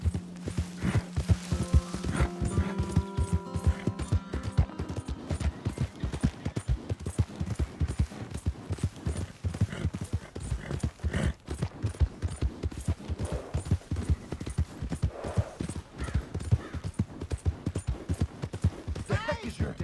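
Rapid, continuous clip-clop of galloping horse hooves in the game Red Dead Redemption 2, dense and rhythmic, with a brief tonal chime early on and scattered clattering throughout.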